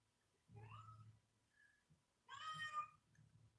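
A cat meows twice, first a short mew and then a longer, louder meow, both close by in a quiet room.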